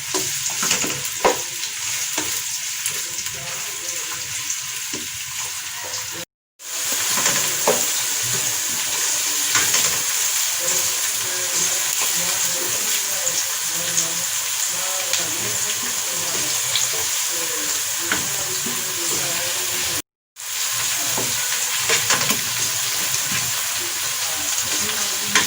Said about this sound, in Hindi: अब इन्हें मैं डालूंगी कढ़ाई में। इन्हें हम ब्राउन करेंगे हल्का सा।